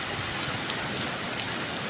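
Steady rain falling and pattering on surfaces, a dense continuous hiss with no pauses, fairly close and even throughout.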